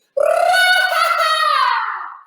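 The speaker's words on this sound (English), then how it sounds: "share an example of my grito" A single long, high-pitched Mexican grito rises sharply, holds with a bright trilling wobble, then trails off and fades, loud and close with no other sound.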